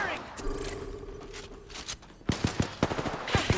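Automatic gunfire in Apex Legends, a burst of rapid sharp shots in the second half following quieter game noise, loud and close, with speech present.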